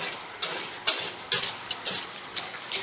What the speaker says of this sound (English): You just want to work all this down inside and just keep on stirring it.